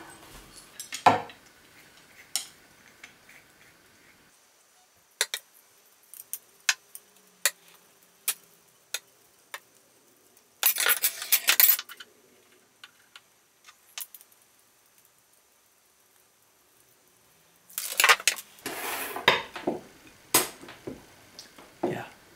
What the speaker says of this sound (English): now I'm gonna get my tube cutter and cut everything